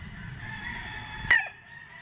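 A Kelso gamecock at a game farm gives a short, sharp crow, one loud burst near the end over a steady background hum.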